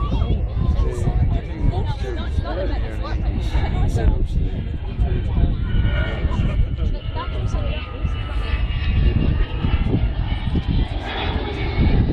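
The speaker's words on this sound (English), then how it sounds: "Captain of that aircraft is the man who's flying the aircraft for us today." An Avro Vulcan bomber performs at the RAF Leuchars airshow, its jet engines producing a loud sustained roar with a rising whine, while a commentator talks over it and the crowd murmurs.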